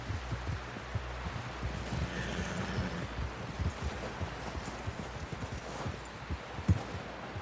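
Horse hooves clip-clop in a steady, continuous rhythm in the video game Red Dead Redemption 2, faint and blended with a low rumbling background, with no talk over them.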